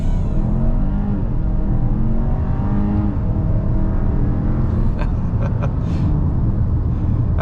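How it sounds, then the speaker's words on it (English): A 2024 Kia Sorento X-Line with the 2.5-litre turbo, 281 horsepower, pulls hard at full throttle, heard from the cabin as a loud, steady engine drone and rumble with a slowly rising pitch, and no talking. "And here we go. Foot to the floor."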